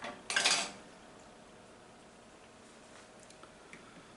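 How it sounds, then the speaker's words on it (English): A metal spoon clatters once against a hard surface after a rinse, a short bright clink near the start, followed by quiet room tone with faint ticks. "I just go ahead and rinse my spoon off here so I can set it down on whatever I want to next"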